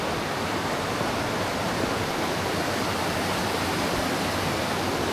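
A river rushes over its rocky bed in a steady, full roar of flowing water, close and unbroken, with no voices.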